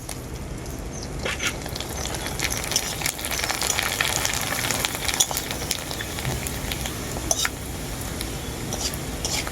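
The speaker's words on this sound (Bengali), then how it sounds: "তেল খুব ভালোভাবে গরম হয়ে গেছে পাঁপড়গুলো ভেজে নেবো" Papads fry in hot oil, giving a steady, loud, close crackling sizzle that runs throughout with no talking.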